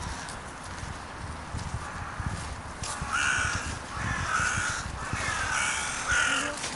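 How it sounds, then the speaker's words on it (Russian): Crows cawing outdoors on a road trip toward Chicago, several harsh caws repeating in the middle distance over a steady low rumble of background noise, with no talk. "Какие вороны, слышали?"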